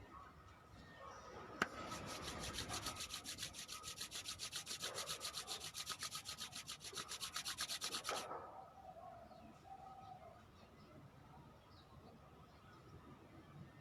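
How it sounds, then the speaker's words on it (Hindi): Two palms rub briskly together in a steady back-and-forth rhythm for about six seconds, a close, dry swishing that stops abruptly, followed by quiet room tone. "अपने दोनों हाथों को रब करते हुए"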